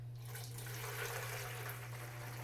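Juice for homemade country wine being poured together with other juice, giving a faint, steady liquid splash and trickle close by over a low hum.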